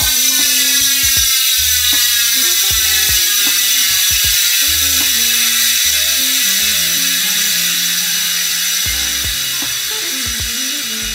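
A bicycle rear hub freewheel spins with a dense, loud, high buzzing ratchet clicking that continues throughout, slowly tapering, with scattered low mechanical knocks beneath.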